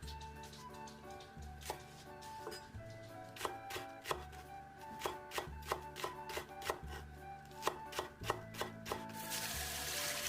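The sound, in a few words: knife finely chopping the white part of green onions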